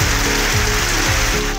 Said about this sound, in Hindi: शकरगढ़ और गुजरांवाला में तेज बारिश ने गर्मी को भगा दिया